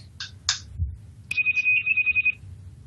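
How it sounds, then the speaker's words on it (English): A mobile phone ringtone plays close and loud: a steady electronic tone pulsing rapidly for about a second, preceded by a couple of short, sharp blips. "Sorry, that's my phone."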